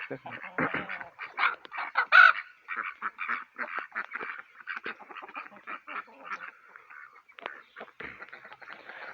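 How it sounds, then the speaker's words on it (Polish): Domestic ducks quack and honk almost continuously while running about in a farmyard during a morning release of hens and ducks. The calls are close and busy, overlapping one another throughout. "No kaczki już tam biegają."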